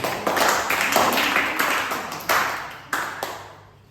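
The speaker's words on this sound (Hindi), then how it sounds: "सब लोग अदिति के लिए जोरदार तालियां बजाएंगे।" A group of children in a classroom claps for a classmate, a string of uneven loud claps with a few sharp accented bursts, close by and fading out toward the end.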